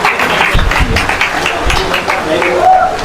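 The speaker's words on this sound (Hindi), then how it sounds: "सबके लिए क्लैपिंग की तालियां जी माशाल्लाह जी।" A crowd claps at a pigeon-flying competition prize ceremony, a dense, steady rattle of hands heard under someone talking over a loudspeaker.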